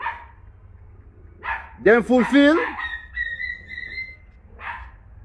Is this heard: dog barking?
yes